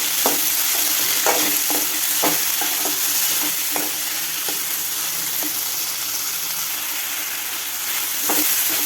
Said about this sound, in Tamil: அரிஞ்சு வச்சு தக்காளியை போட்டுக்கலாம். இதையும் நல்லா வதக்கிக்கலாம்.